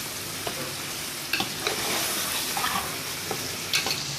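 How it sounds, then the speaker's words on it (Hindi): Chicken karahi cooking in a pan as fried tomatoes and spices are stirred through, a steady close sizzle broken by several sharp scraping clacks of a spoon against metal, with no talking. "इसमें जो हमने टमेटोज फ्राई किए थे वो भी ऐड कर देंगे और वो ऐड करने के बाद भी हम इसको अच्छी तरह से मिक्स कर लेंगे"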